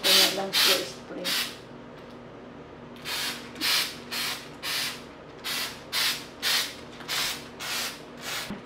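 Spray paint applied in green to an old artificial Christmas tree, heard as a series of short hissing bursts, two early then about eight regular pulses in a row, close and loud.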